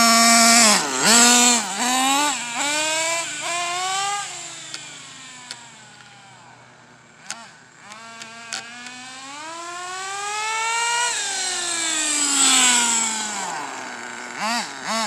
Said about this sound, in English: The sound I'm hearing is probably the clutch.